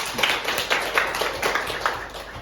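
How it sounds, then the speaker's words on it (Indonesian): A classroom of students claps for a classmate during a microteaching lesson, a short run of fairly close, evenly spaced claps without talk. "Tepuk tangan dulu buat Rifa"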